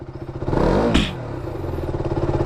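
A KTM Duke 200 motorcycle with a faulty front brake rolls slowly, its engine putting out a steady, close, rhythmic pulsing with a brief louder surge early on.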